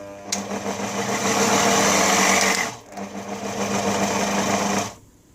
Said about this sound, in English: So now I'll turn on the blender again